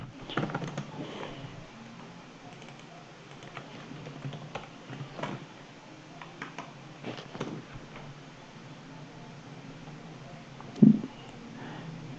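A computer keyboard clicks as a sudo command is typed, giving scattered light taps and short runs of keystrokes with one sharper knock near the end, faint and close.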